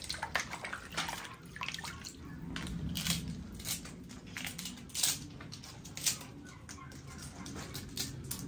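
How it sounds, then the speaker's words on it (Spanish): Mulato chilies for mole poblano are dipped into water, making intermittent soft splashes and wet squishing sloshes close by, with quiet pauses between dips. "Los voy sumergiendo a la agüita para empezarlos a moler los chilitos."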